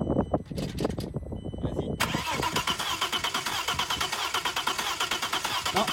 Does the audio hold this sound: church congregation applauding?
no